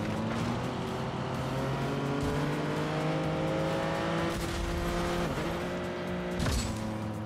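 Car drifting through a turn in the Hot Wheels: Infinite Loop mobile racing game, a steady engine drone with rising and falling pitch and brief tire squeals, loud and continuous throughout.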